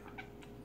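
A Korean house cat gives a faint, brief meow, soft and low against a steady background hum.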